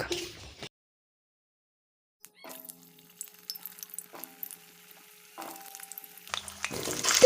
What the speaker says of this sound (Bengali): কড়াইতে তেল দিয়ে তেলটা গরম হয়ে আসলে আলুটা ভেজে নেওয়া যাক